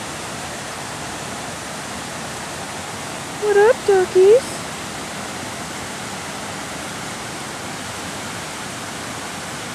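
Steady broadband rush of a big waterfall fills the scene at a distance, constant and even, while a person briefly speaks a short greeting over it.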